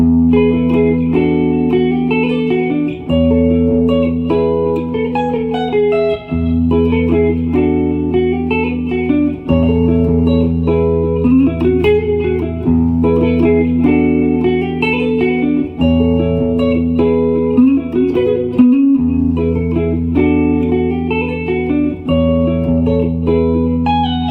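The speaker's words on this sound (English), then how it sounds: "this guitar part is completely different than everything else I've shared in this lesson" An electric guitar plays a distorted, effects-heavy chord part in E from a song, with steady sustained chords, an open low E and brief rhythmic breaks, loud and continuous throughout.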